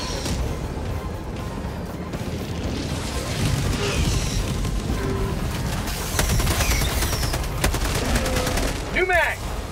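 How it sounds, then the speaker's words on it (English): Heavy video game combat from Helldivers 2 on a bug mission, with dense, continuous gunfire and loud crashing blasts, including a grenade explosion, rolling through the whole stretch. A voice cuts in near the end. "Throwing grenade!"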